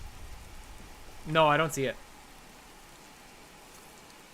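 Rain falls in the video game Skyrim as a steady, even hiss that lasts the whole time, with a short spoken phrase heard over it near the start.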